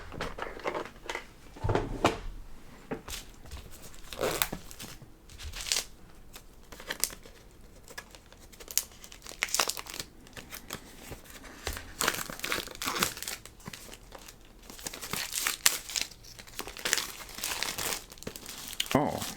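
Playdate handheld's box packaging being peeled open by hand after a slit with an X-Acto knife, close, repeated crinkling and tearing of cardboard and wrap in irregular bursts, with a person talking between the noises.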